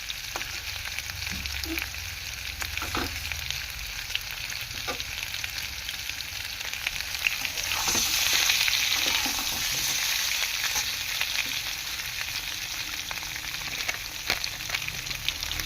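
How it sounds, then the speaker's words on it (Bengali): Potatoes fry in a pan with salt and turmeric, a steady close crackling sizzle throughout, swelling briefly midway, with scattered light stirring clicks and no speech. "লবণ হলুদ দিয়ে আলুটাকে ভালো করে ভাজতে হবে।"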